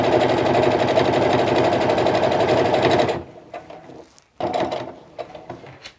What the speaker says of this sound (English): So I'm sewing about 1/8 of an inch seam.